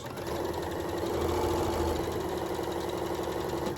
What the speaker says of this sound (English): So I'm just going to take it and I'm going to sew straight down.